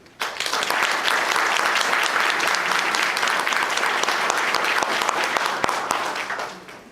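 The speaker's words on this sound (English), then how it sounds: "now that he's had a nice hand of applause" Sustained applause from a roomful of people, steady and full for several seconds before tapering off at the end.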